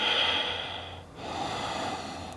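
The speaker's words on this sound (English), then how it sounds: "The breath supporting your body, breathing deeply." Deep, steady breathing during a yogalates exercise, a long airy inhale then exhale with a short pause between, close and fairly soft with no talking.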